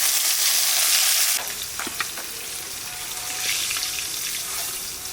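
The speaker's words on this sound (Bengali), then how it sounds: "কাঁচা লঙ্কা ভাজা" Green chillies fry in hilsa fish oil with a loud, hissing sizzle that drops sharply after the first moment, then continues steadily with scattered pops and stirring noises, close and with no one speaking.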